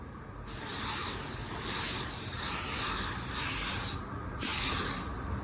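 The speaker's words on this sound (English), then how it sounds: "Man, this gun really breaks down the clear so fine." A Black Widow 2.0 spray gun spraying unreduced high solids clear coat, giving a loud, close, steady hiss in two long passes with a brief pause between them.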